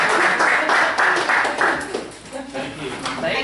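People at the back of a board of education meeting break into brief clapping and cheering, a modest burst of hand claps in an echoing room with talk mixed in.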